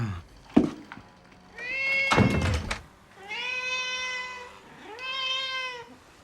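A cat meows several times, drawn-out and clear, close by, with a couple of sharp thumps and knocks in between the cries, during a comedy sketch.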